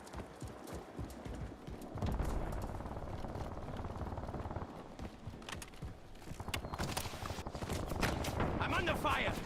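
Gunfire in the battle royale game Warzone, sharp cracks and bursts scattered through a busy, noisy mix, growing denser toward the end, while players shout over it.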